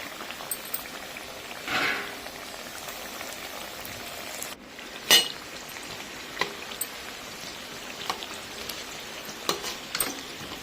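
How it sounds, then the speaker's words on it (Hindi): Khasta kachoris deep-frying in hot oil in a kadhai, a steady close crackle and hiss with scattered sharper pops and no voices. "और जो रह गई हैं उनको भी हम इसी तरह से कढ़ाई में डाल देंगे।"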